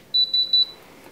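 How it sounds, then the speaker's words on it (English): Three short, high electronic beeps in quick succession from a HobbyKing Orange 6-channel radio transmitter, clear against a quiet background. "And it beeps 3 times."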